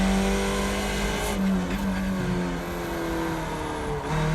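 Race car engines from the iRacing sim racing game at Long Beach, a Skip Barber car, drone steadily throughout with shifting pitch as cars run close together, loud and continuous with no talk.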